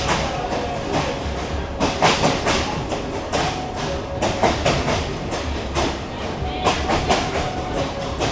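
A passenger train in Africa rolls along the rails with steady clickety-clack and thumping wheel beats over a loud continuous rumble.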